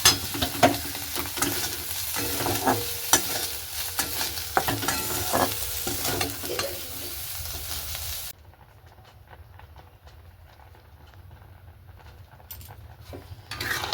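Milk boils in a pan with a steady, crackling bubble and occasional clinks, then drops to a much quieter simmer partway through.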